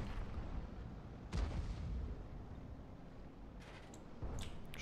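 A heavy artillery boom from the Object 261 self-propelled gun in World of Tanks bursts out, followed by a rumbling tail and a few sharper distant impacts later, with little or no talk.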